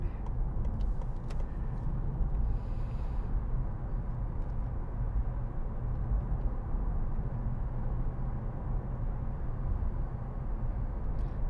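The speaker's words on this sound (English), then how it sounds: "Too many cars." Steady road traffic noise in the early morning, a continuous low rumble and hiss from cars driving nearby, unbroken throughout with no voices.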